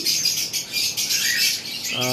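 Large cockatiels, a breeding pair in a box, give a continuous run of shrill chirps and tweets up close, loud and busy for a couple of seconds.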